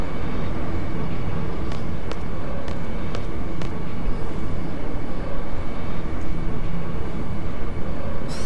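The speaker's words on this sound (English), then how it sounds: "we just got on the train and now we're about to advance further" A train ride in the Final Fantasy VIII video game: a constant loud rumbling drone with faint metallic ticks early on, and a rougher, fluttering roar in the second half.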